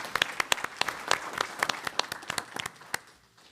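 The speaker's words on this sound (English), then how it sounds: "Let's give them a round of applause." Applause breaks out at a school board meeting, a modest scatter of individual claps from a small audience that keeps a lively pace for about three seconds, then thins out and fades away with no talking over it.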